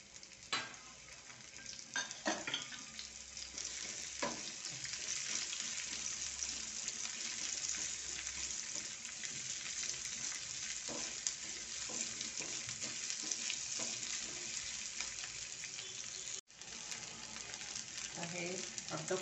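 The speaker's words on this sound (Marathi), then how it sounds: "आता ह्याच्यातच मी तेल टाकून आपल्याला रस्स्याची तयारी करूया. हा कांदा एक घेतलेला आहे मी उभा चिरून." Lengthwise-sliced onion frying in hot oil as the base for a spicy Marathi modak amti curry, with a steady, close sizzle throughout, occasional stirring clinks, and a brief dip near the end.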